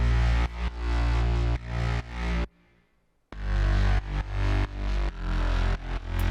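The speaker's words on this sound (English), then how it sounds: "So the bass all together sounds like this." Layered synth bass with a sub bass layer pulses in loud, gritty rhythmic bursts, cutting out to near silence for a moment before resuming its chopped pattern.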